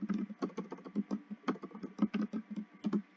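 Quick keystrokes on a computer keyboard while filling in a Zoom meeting form, a steady patter of close, soft clicks in irregular bursts with no voices.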